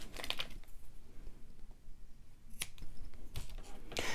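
Scissors trimming t-shirt yarn up close, several crisp snips in short clusters with quiet pauses between them and no speech.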